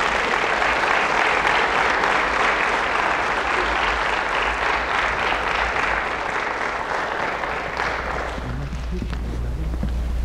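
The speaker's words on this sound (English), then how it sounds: "please join me in a round of applause" A crowd at an award ceremony breaks into sustained, loud applause, dense clapping that holds steady for several seconds before thinning out near the end, with a few voices beneath.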